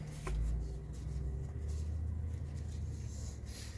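A deck of prompt cards being spread out across a surface, giving a close, continuous papery shuffling and sliding rustle with one sharper tap near the start, with no talking.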